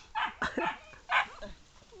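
Several close, sharp dog barks in quick succession, a short burst of three or four yaps with brief pauses between.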